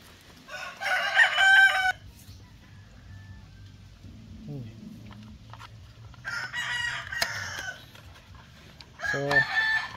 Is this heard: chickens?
yes